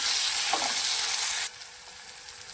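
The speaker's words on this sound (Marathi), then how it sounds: "टोमॅटो पण चांगले फ्राय करून घ्या." Chopped tomatoes fry in a pan with a bright, steady sizzle close by, loud at first and then settling a little quieter, with a light stir partway through and no talk.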